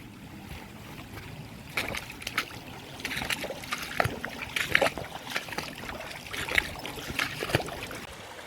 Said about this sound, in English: Got another river to cross. Again, another nice easy ford.